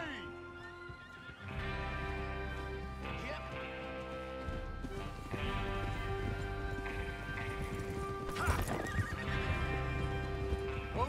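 Horses in the video game Red Dead Redemption 2 whinny and clop along at a trot, hooves beating steadily under a loud layered game soundscape with a brief voice and shifting background tones.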